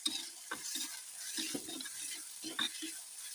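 Onions sautéing in a pan for a roasted brinjal curry, a soft steady sizzle with intermittent stirring scrapes of a spoon against the pan, faint and close.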